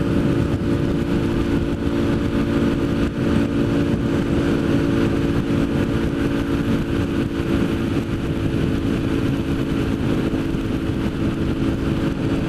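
Motorcycle cruising in the carpool lane on the Bay Bridge, with a steady droning engine hum and constant wind and road roar that stays level throughout, with no talking.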